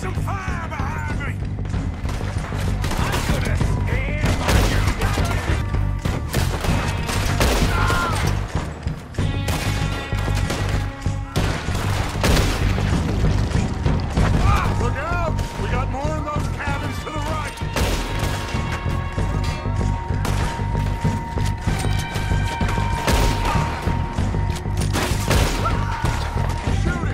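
Gunfire rings out in a shootout with the O'Driscolls in the video game Red Dead Redemption 2: dense, loud, repeated shots and bursts continue throughout, with shouting voices mixed in.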